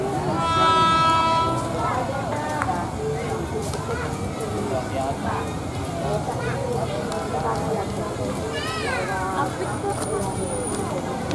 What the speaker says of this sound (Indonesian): Ada kereta lewat jalur sebelah sini.